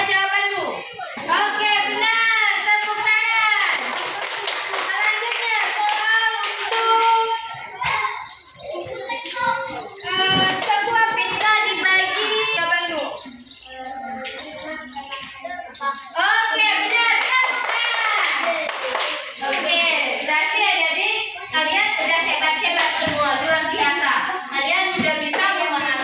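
Schoolchildren in a classroom clap together in rhythmic patterns, bursts of coordinated hand claps mixed with chanting voices and an adult speaking, with short pauses between rounds.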